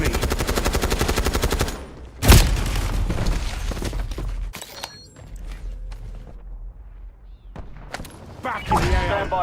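Video game gunfire from a military shooter, with bursts of rapid automatic fire, a sharp loud blast, then scattered shots and mechanical clatter, with a voice heard briefly.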